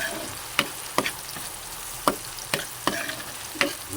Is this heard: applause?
no